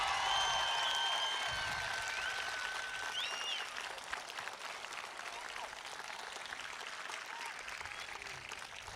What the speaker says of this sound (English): Now's the time for the big, huge round of applause.